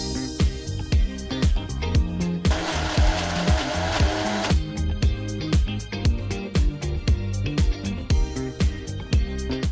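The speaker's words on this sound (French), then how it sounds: "Une fois que les piments ils sont réhydratés, ensuite on va les mixer." A blender purées rehydrated chili peppers with a little water, whirring in a loud continuous burst for about two seconds, with rhythmic clattering and mechanical knocking before and after.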